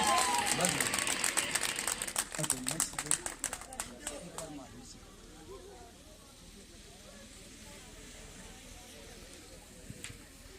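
An audience at a defence academy celebration claps for the Indian Army, a burst of applause that fades out after a few seconds into quiet room tone.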